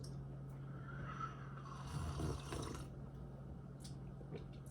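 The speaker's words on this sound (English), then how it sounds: "it's raining today." Steady rain falls outside on a Sunday morning, a continuous soft wash of hiss and patter with a low constant hum underneath and no voices.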